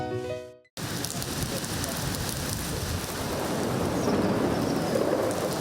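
Heavy downpour on a Dhaka street, a dense, steady roar of rain hitting surfaces that fills the whole clip right after a brief cut-off at the start, with no talk heard.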